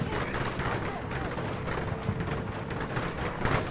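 Gunfire in the Combat Mission Shock Force 2 war game, a dense stream of rifle and machine-gun shots with distant booms, heard under a voice.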